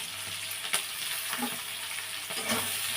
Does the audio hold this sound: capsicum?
yes